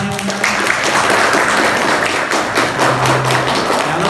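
Audience applause at the close of a parenting talk on child psychology for six-year-olds at a kindergarten, a dense, steady spatter of clapping lasting throughout, loud and close with no voices over it.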